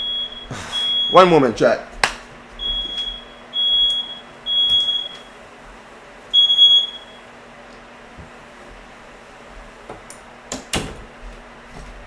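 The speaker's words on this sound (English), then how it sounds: "Fire alarm was going off." A house fire alarm goes off in repeated short, shrill beeps with uneven gaps between them, interrupted by knocks and clatter, while someone speaks briefly nearby.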